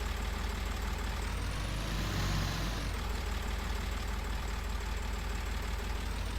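A two-wheel drive tractor engine runs steadily on a small back-yard farm, a continuous close, even drone that swells briefly in the middle, with no talking.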